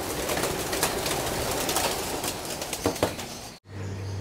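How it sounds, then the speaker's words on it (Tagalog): Pigeons are released from a loft in the early morning, giving a dense wash of wing flapping and bird noise with scattered coos. It stays loud and close for about three and a half seconds, then cuts off sharply into a low steady hum. "papalabasin na natin sila mga kalapatids"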